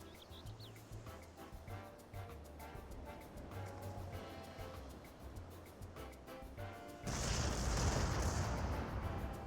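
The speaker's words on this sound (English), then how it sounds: "And then you have the fireworks display" Fireworks display during the Moonfire Faire seasonal event in Final Fantasy XIV: game music plays, then from about seven seconds a dense burst of crackling, popping explosions fills the mix loudly, continuing to the end.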